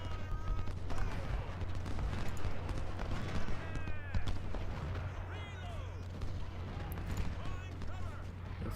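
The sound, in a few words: gunfire in Ultimate General: Civil War, video game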